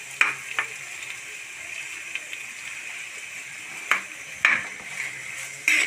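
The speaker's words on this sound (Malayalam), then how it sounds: "സവാള ഇട്ട് കൊടുത്തിട്ടുണ്ട്." Onions fry in a pan with a soft, steady sizzle, broken by a few sharp clinks of a utensil against the pan.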